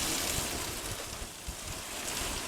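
Strong wind at a holiday park in Burnham-on-Sea buffets the microphone in a continuous rumbling roar with gusty swells, no voices.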